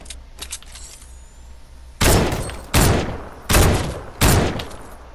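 Sniper rifle fire in the Fortnite video game: four loud, booming shots after a quiet stretch, spaced under a second apart, each with a short decaying tail and no talking.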